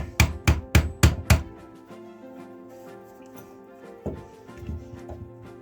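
Five sharp, evenly spaced knocks of a wood scrap used as a hammer striking wood, loud and close, followed by quieter scattered taps and faint room noise.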